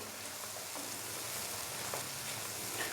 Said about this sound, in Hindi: और यहाँ पे हम मसाले को भून लेंगे 4 से 5 मिनट के लिए।